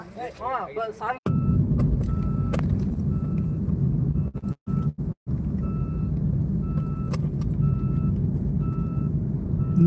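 A steady electronic seat belt warning chime repeats at even intervals inside a vehicle, over a constant engine rumble, with a brief snatch of voice at the start.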